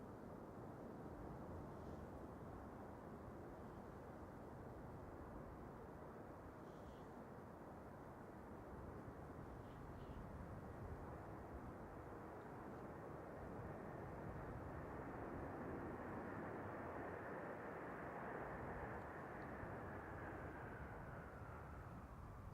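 A Sun Express Boeing 737 lands with its thrust reversers on at Manchester Airport, a distant, sustained broadband jet roar that swells slightly toward the end.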